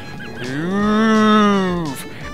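A single long, tonal cow moo from the video game Super Mario Galaxy, rising and falling over about two seconds, loud and close with no talking over it.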